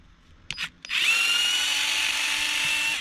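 A power drill backs screws out of an Arrma Big Rock 223S RC truck: two short bursts first, then a steady, close, loud whine that runs on without talk.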